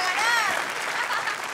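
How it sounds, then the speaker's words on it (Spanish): A short burst of applause from a crowd, steady clapping that carries on without a break. "¡Fuerte el aplauso para ellos!"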